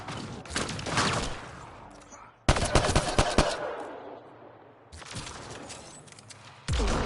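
Automatic gunfire in the Mass Effect: Andromeda video game: long, loud, dense bursts of rapid shots that stop and restart several times over a low rumble, with no voices.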